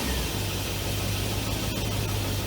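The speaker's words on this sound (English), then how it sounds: "we managed to cobble together an exhaust system, and I do mean cobble. Let's see how it sounds." A 1967 Pontiac Parisienne running with a cobbled-together scrap exhaust gives a steady low rumbling idle, with a continuous deep drone and faint mechanical hiss, moderately quiet and unbroken throughout.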